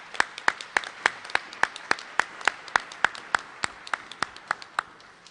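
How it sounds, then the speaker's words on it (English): Sparse, distinct individual claps at a police chief swearing-in ceremony, a small audience applauding in an uneven but rhythmic pattern, each clap crisp and separate. "Let's please give them a big round of applause."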